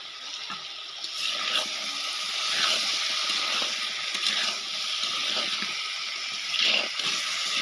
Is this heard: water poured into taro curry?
yes